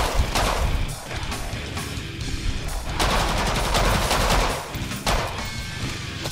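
Rapid bursts of L85 rifle fire from Killing Floor 2, a dense, loud stream of automatic gunshots with short pauses between volleys, layered over chaotic combat noise.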